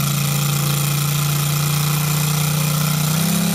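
An RCS150 engine runs steadily at 20% throttle under PC control, a loud close drone with a constant low hum that rises slightly in pitch near the end, with no talking.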